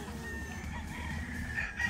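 Brood stag gamefowl roosters on a gamefarm crow faintly in the distance, a short strained call drawn out over quiet background noise.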